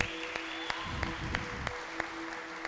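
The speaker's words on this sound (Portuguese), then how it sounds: "Vou aplaudir o nosso pastor dessa noite." A church congregation applauds the pastor at an evening service, a soft, steady patter of clapping heard at a distance under a sustained tonal hum.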